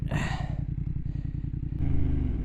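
A motorcycle rumbles past close by with a steady low engine pulse that swells louder near the end, with light clatter over the top and no speech.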